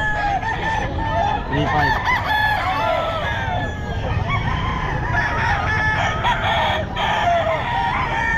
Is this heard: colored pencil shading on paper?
no